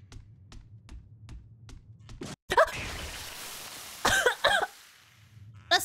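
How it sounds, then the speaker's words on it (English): One sudden, loud, close cough, with a throat-clearing follow-up, breaking into a quiet stretch of steady keyboard tapping that resumes afterward. "That scared me so hard I coughed."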